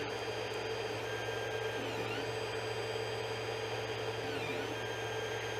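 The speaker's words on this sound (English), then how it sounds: "I'm printing the main casing." 3D printer printing the main casing of a screw pump, a steady close motor hum with whining stepper tones that shift in pitch as the print head moves, alone with no voices.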